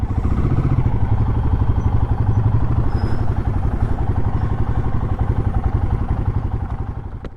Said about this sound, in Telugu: బైకులు తెచ్చి పెట్టాము మేము.